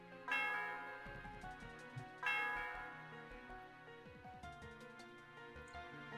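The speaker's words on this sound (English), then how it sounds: "The sound of the bell reverberates throughout the area." A bell in the Pokémon White 2 video game rings out in two bright, resonant strikes. Each one decays slowly over a soft game melody, and a fainter chime follows later.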